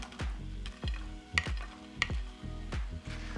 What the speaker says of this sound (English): Now I'm gonna add my gnocchi back in.